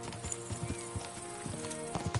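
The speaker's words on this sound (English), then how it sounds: "just a free horse roaming around" Hooves of a free horse roaming in Kingdom Come: Deliverance 2 clip-clop in an uneven rhythm of soft, fairly faint thuds over quiet game ambience.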